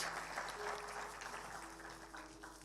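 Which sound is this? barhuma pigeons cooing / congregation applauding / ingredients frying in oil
congregation applauding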